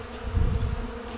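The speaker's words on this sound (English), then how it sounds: "there's another bee in there" Honeybees buzz close by around a hive during a spring inspection, a steady droning hum that swells in the middle and stays continuous, with no talking.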